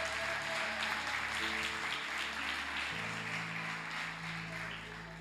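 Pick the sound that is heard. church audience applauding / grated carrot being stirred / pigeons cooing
church audience applauding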